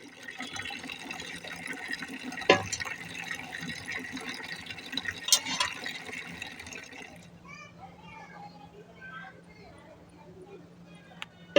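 A tap runs for washing the face with cold water in the morning, a steady splashing hiss for about seven seconds before it stops, with children's voices and talk mixed in.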